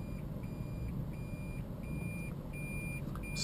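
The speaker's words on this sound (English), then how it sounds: "my guidance is complete when it beeps" Short, evenly spaced electronic parking-assist beeps repeat steadily over a low rumbling engine hum inside a car reversing into a parking space, ending with a slightly longer tone.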